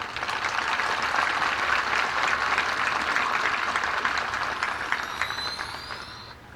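Audience applause at a Class of 2020 graduation ceremony, a broad, steady crowd clapping that holds strong for several seconds, then thins out toward the end, with a few faint high whistles near the close.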